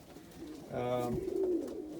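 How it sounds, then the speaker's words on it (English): Indian fantail pigeons in a loft give a soft, close coo, a short rising and falling throaty call in the middle of a quiet moment. "there is a pair of Indian fantails"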